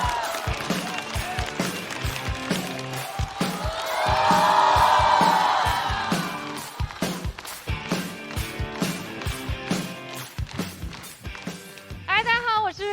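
A studio audience at a stand-up comedy show cheers and applauds to welcome a comedian, with the crowd noise swelling in the middle amid music and stage sounds.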